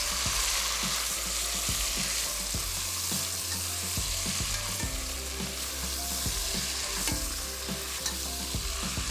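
Chicken pieces sizzle and fry in a pan while being stirred, with steady crackling and repeated scraping strokes of a spoon throughout, close and loud, no talking.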